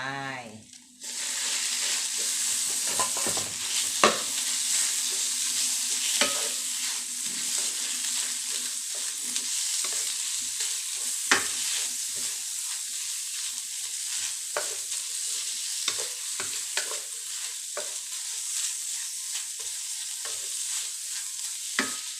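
Minced pork stir-fries in a pan with garlic and salted egg, a continuous close sizzle broken by frequent scraping and clacking of a spatula against the pan.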